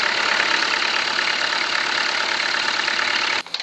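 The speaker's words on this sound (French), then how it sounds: "moteur tournant, ralenti" A Peugeot 504 pick-up engine idles steadily with a dense, even mechanical hum that stays loud and constant, then cuts out abruptly near the end.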